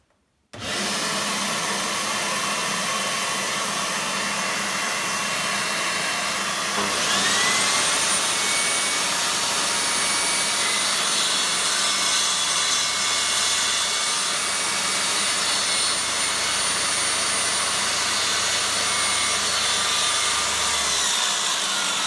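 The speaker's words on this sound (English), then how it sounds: "this is a 45-degree mitre cut" A DeWalt DWS773 mitre saw spins up and slices a 45-degree mitre cut, its loud, steady motor whine running continuously, close-up and without any talk.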